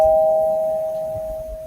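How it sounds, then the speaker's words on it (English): Doorbell chime ringing once, a clear sustained electronic tone that slowly fades, loud and alone with no talk. "Doorbell? Yeah. Doorbell."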